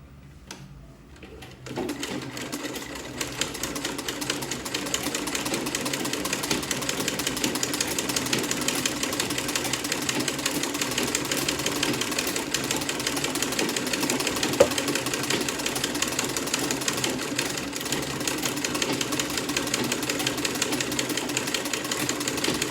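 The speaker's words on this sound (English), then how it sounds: "I'm going to be sewing this other side." A sewing machine runs steadily for a long stretch while stitching a corset dress with a basque and illusion neckline, a fast, even, buzzing whir that holds nearly constant, close and prominent after a brief quiet start.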